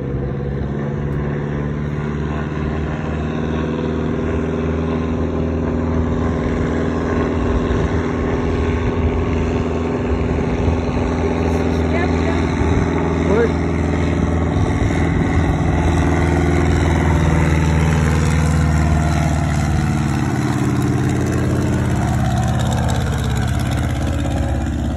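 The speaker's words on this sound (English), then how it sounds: "brought the temperature up by applying full power while step taxiing" Aircraft engine at full power during step taxiing on water: a loud, steady, continuous drone with a harmonic hum and rushing noise, holding for the whole stretch with a slight shift in pitch near the end.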